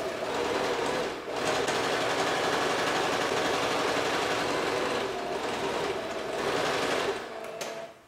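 A sewing machine stitches a facing around the front pocket of men's shorts, running in a loud, continuous mechanical whir with a brief pause near the start and another short dip later, close up and without speech.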